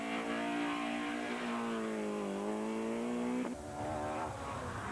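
Rally car at the Punchestown rallysprint, the similar car of Ollie O'Reilly, roaring loudly as it holds a high engine note, then dropping sharply on a gear change and pulling away again, with no voices.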